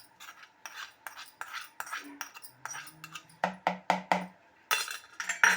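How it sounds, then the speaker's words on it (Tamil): A spoon clinks and scrapes against a bowl while moong dal paniyaram batter is mixed, in quick uneven strokes that grow louder and more rhythmic toward the end. "எல்லாத்தையும் நல்லா மிக்ஸ் பண்ணிக்கோங்க"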